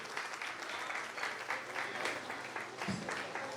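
Children's prize distribution at a church on Resurrection Day, with steady, dense applause from the gathered congregation filling the room throughout, moderately loud and continuous.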